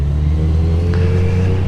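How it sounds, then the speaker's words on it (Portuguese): A GM car passes on the left of a motorcycle in traffic, a loud, steady low engine and road rumble close by without a distinct peak. "carro da GM aqui à minha esquerda que passou"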